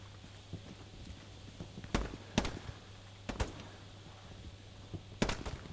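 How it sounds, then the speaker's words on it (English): Sharp gunshots in the Hell Let Loose video game, a few sporadic cracks and short bursts at mid distance over a low steady hum, with quiet gaps between them. "Can you hear the gunshots?"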